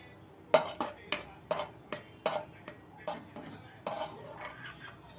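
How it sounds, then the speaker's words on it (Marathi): Roasted chickpeas, walnuts and cardamom pods are dry-roasted in a pan, with a utensil scraping and clinking against it in a dozen sharp, fairly regular strokes, close and clear with no talk. "फुटाणे पण भाजून घेऊया। अक्रोड भाजून घेऊ आणि ह्या 2 विलायच्या पण भाजून घेऊ।"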